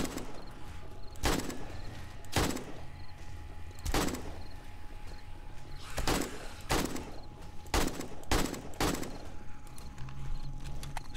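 Gunshots in the video game 7 Days to Die: about ten sharp, loud cracks at irregular intervals over a low, steady background, with faint voices.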